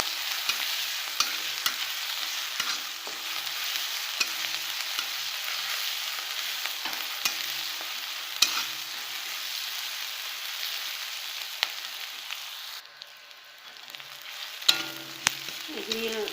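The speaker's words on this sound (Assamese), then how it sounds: "এইখিনি আদা নহৰুখিনি ভজা হৈ গ'ল।" Ginger and garlic frying in a pan, a steady soft sizzle with scattered scraping and clinks from stirring, close and fairly quiet.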